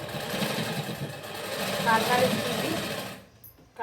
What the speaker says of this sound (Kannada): ಕಾಲು ಇಂಚಿಗೆ ಒಂದು 3 ಸ್ಟಿಚ್ ಹಾಕ್ತೀನಿ